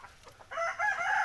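Desi chickens and a rooster on a farm, out on green grass, crow loudly and cluck close to the listener, with the crow rising strongly after a few softer calls.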